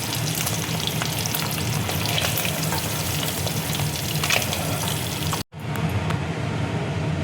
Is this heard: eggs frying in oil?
yes